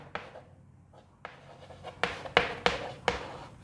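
Chalk or pen writing a chemistry formula for orthophosphorous acid: a string of close, crisp scratchy strokes and taps, sparse at first, then several sharper marks in quick succession.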